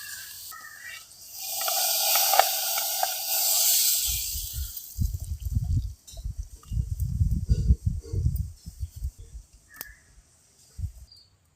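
Fried onion tempering with curry leaves and asafoetida poured into a village-style dal sambar, giving a loud, bright sizzle for a few seconds that then gives way to low, dull knocks and clatter.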